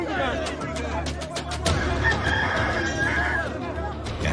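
A rooster crows loudly and close, a drawn-out cock-a-doodle-doo with some clucking, set in a dramatized gospel scene of Peter's third denial, with voices and chatter around it.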